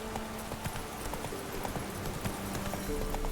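Steady clip-clop of horse hooves at a trot in a medieval fantasy video game, rhythmic and continuous under a dense bed of game ambience.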